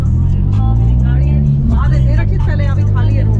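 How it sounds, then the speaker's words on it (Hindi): Heavy road traffic near Siddhbali, with a continuous low rumble of cars and other motor vehicles, engines droning close by while people talk over the noise. "इतना ट्रैफिक भाई आज तक भाई सिद्धबली में नहीं देखा"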